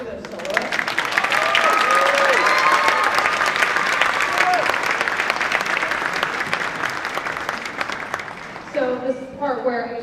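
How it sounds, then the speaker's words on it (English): Audience at a spring school band concert applauding the soloists, loud sustained clapping with scattered cheers and whoops, tapering off as a voice starts talking near the end. "Can we have one more round of applause for those soloists?"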